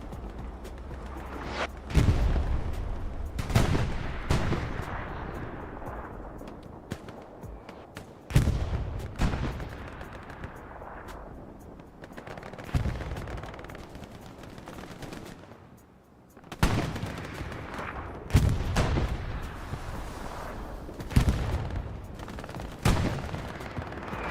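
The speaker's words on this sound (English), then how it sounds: "Here comes artillery now." Artillery fire in the Hell Let Loose video game on the Utah Beach map: loud booming blasts and rattling gunfire arrive in repeated bursts, each with a rumbling tail, over a steady battle background.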